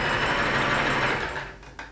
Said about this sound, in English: I'm just feeding it through the machine, making sure that my fabric is perfectly lined up